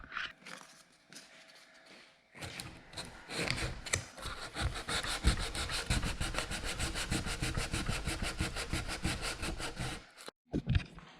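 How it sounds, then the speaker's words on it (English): Hand sanding a hardened repair patch on a RZR side-by-side roof, steady rhythmic back-and-forth rasping strokes that run close and fairly loud for several seconds after a few quieter scrapes. "I'm gonna give it a slight sand and try to smooth this out a little bit"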